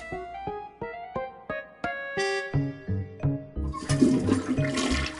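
A cartoonish toilet flush in the adventure game Day of the Tentacle. It opens with a run of descending musical plinks and ends in a loud rushing gurgle of water, with no talk.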